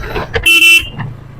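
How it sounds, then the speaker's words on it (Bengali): A TVS Ronin motorcycle horn gives one short, bright toot, loud and close, between faint road noise. "গাড়ির হর্নের আওয়াজ এরকমই আছে"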